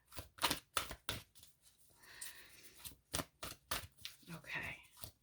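Cards are shuffled in quick crisp riffles and snaps, several bursts in a row, close up, with a brief softer rustle partway through.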